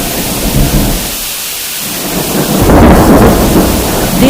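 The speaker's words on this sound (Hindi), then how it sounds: "कुछ समय बाद गांव में भयानक बारिश शुरू हो गई।" Heavy rain pours over a village, with a loud, deep roll of thunder swelling in the second half over the constant dense hiss of the downpour.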